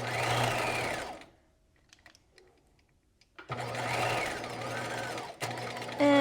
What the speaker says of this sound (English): And now I'm back stitching.